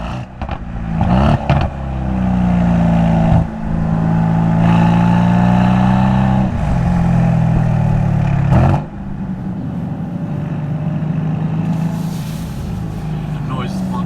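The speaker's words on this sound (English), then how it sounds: "I think AMG do very, very, very well as exhaust notes" Mercedes-AMG C63S and C43 engines roaring with a loud sustained exhaust note on track, heard from inside the car as the revs rise and fall, with voices talking over it.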